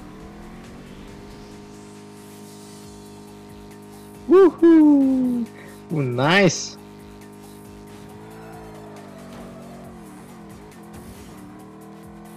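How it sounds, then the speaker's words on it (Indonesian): Ace Racer video game car with a constant engine hum, two loud, rising tire squeals from drifting in the middle, and a voice speaking briefly. "Ih, terlalu keras banget dong driftnya."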